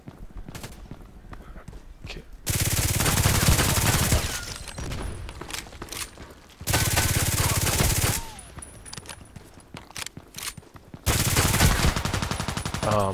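Glock 18 firing in a video game: three long bursts of rapid automatic gunfire, loud and close, separated by quieter stretches of game sounds.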